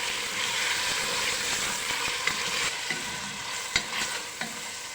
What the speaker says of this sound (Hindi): और गोश्त डालने के बाद थोड़ा सा भून लेते हैं।